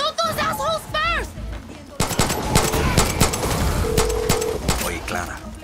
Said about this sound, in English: Shoot those assholes first!